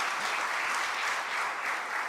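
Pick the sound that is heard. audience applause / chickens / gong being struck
audience applause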